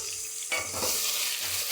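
Sardine curry masala fries in a pan while being stirred, a brief close burst of sizzling with scraping stir sounds, no voices.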